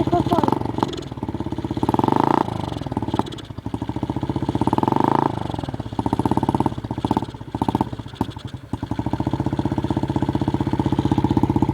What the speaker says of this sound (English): Motocross bike.